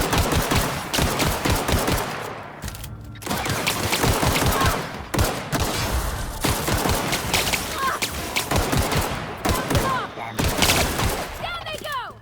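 A Panic rifle in the video game The Outer Worlds fires in rapid bursts, loud and close, with brief pauses between volleys and a voice briefly heard near the end.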